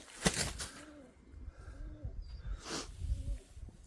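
Pigeons cooing softly at close range, several repeated low coos over faint rustling and a couple of brief sharp knocks, with no one talking.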